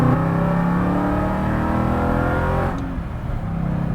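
A supercharged 710 horsepower 1968 Mustang Fastback Cobra Jet pulls hard from inside the cabin, its engine note climbing steadily for a few seconds before the throttle lifts and the sound drops back.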